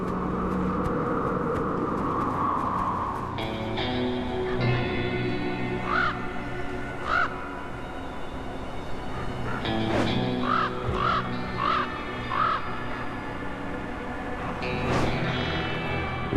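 Common ravens call across the Arctic, with several short hoarse caws in separate bursts spread over the stretch. They sit over a steady background of low hum and rumble.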